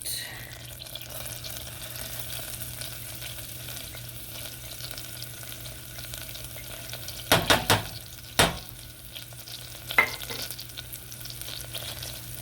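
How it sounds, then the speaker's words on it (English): Shallot sizzling in melted butter in a pan over medium heat, a steady close frying hiss throughout, with a few brief clattering stirs near the end. "With the butter, we're going to add the shallot."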